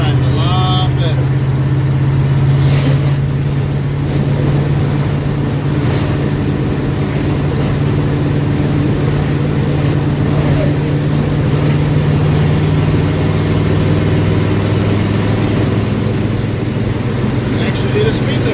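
A Chevrolet C10 pickup truck rolling along on new tires and wheels, a steady loud engine and road drone with constant low hum throughout, cabin-heard, with a few brief clicks.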